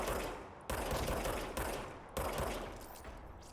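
Bursts of rapid gunfire in the video game Control, three loud sustained volleys separated by brief gaps, close and harsh, with the last burst fading out.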